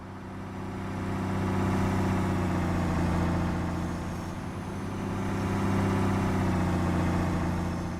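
Diesel locomotive engines idle in Train Sim World 6, with one engine not running, giving a steady low rumble with a slight swell and dip, heard close and alone.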